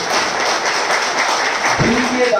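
An audience at a leadership seminar for a multi-level marketing direct-selling business claps together in a steady wash of applause, which then gives way to someone speaking.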